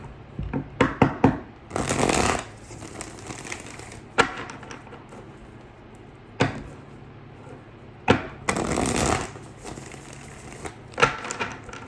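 Cards are shuffled in repeated bursts, quick riffles and soft taps spaced a few seconds apart, close up with no talking.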